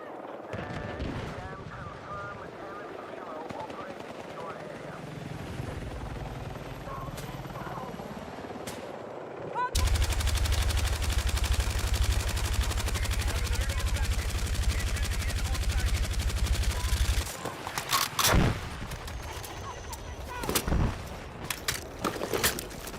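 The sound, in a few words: LMG gunfire from the video game Battlefield 6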